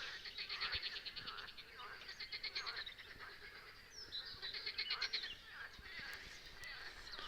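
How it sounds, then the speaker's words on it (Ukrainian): Many frogs croak in pulsing, overlapping choruses, fairly faint and outdoors, with occasional bird calls mixed in. "Жаби кванькають, кванькають і не можуть накванькати нам дощу."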